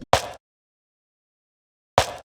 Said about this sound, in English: I did try to layer these snares